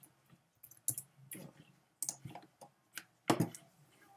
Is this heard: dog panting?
no